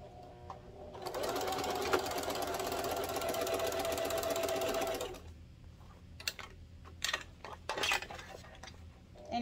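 A sewing machine stitches a 1/4 inch seam on a car trash can in one steady, close, loud run of about four seconds, then stops; handling noises and small clicks follow.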